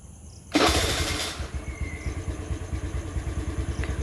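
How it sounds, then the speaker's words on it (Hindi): A scooter engine starts with a sharp burst, then settles into a low, rhythmic, puttering idle that is close and moderately loud. "मैं फिर इंजन ऑन कर रही हूँ."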